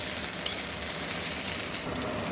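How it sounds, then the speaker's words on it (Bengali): Onion and garlic fry in a pan with chopped chili, producing a continuous, close crackling sizzle at a steady level with no voices. "এবারে এটা একটু লাল করে ভেজে নেব যতক্ষণ না রসুনের কাঁচা গন্ধটা যাচ্ছে ততক্ষণ একটু লালচে করে ভেজে নিচ্ছি"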